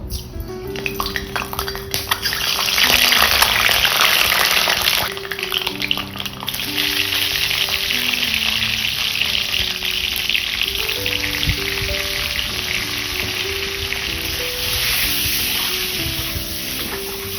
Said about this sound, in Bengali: সরষের তেলটা গরম হয়ে গেছে ডিমগুলো দিয়ে দেবো